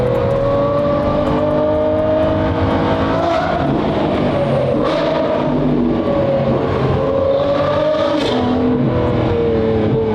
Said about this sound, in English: I think it revs like a sport bike.